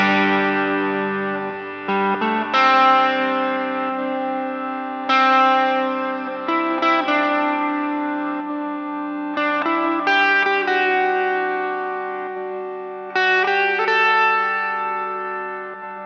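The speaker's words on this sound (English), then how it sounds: "So the 5th program that I've written is called the Infinite Freeze." An electric guitar runs through two EHX Freeze pedals on an Infinite Freeze program, so held chords stack into sustained drones. New layers swell in every few seconds over a continuous ringing bed, with no talking.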